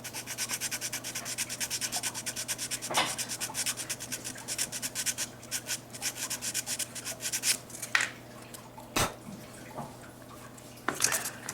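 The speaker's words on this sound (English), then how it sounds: "Start to cut that groove in there, or sand that groove in there." Steady, close scraping as a groove is sanded into a wax pigeon whistle mold, a continuous gritty rub broken by a few sharp knocks.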